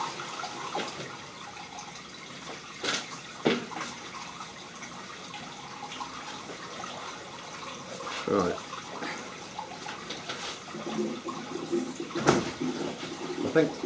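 Water flows through a drain pipe under a utility room and kitchen, a soft continuous gurgling rush with occasional sharper splashes, heard faintly and fairly close.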